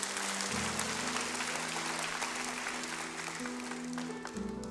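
A church congregation applauds during a sermon, a dense, fairly quiet patter of clapping under a sustained organ or keyboard tone.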